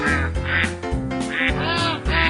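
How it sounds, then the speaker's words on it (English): Ducks quack in a rapid run of loud, nasal, buzzy calls, several overlapping in quick succession, close and clear with no talking. "We'll be right back after Bob gets the ducks out of his living room."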